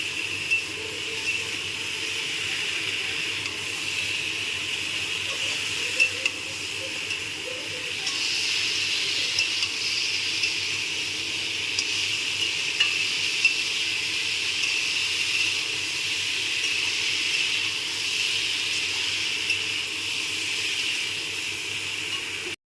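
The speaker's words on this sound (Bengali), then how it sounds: "একটা বেগুন দিয়ে এবার এটাকে ভালো করে একটু মিক্স করে কষিয়ে নেব।" Hilsa fish curry with potato and eggplant sizzles in a hot pan as it is stirred, a steady hissing fry that runs unbroken for over twenty seconds, moderately close and with no talk.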